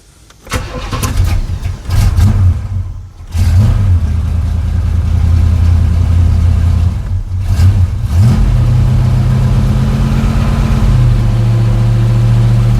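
A 1989 Chevrolet S10 pickup's V-8 cranks and fires, then revs in loud bursts with brief drops before settling into a steady, close, rumbling idle.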